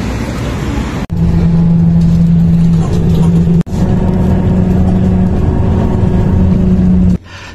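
Interior of a city bus riding along a street in Xining, a steady loud engine drone with a low hum that cuts out briefly twice, no talk heard.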